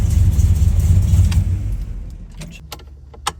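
A cold 1972 Dodge Dart Swinger engine idling just after startup, a loud low rumble for a couple of seconds that then cuts out, followed by a few sharp clicks and jingles.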